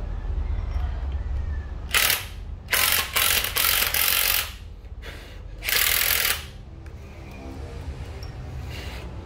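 A used Japanese cordless drill with a work light whirs close and loud in several short bursts, each a second or two long, separated by pauses with a low background hum.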